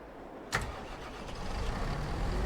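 A tractor engine in Farming Simulator 22 cranks with a sharp click, then catches and settles into a steady rising rumble that grows slightly louder.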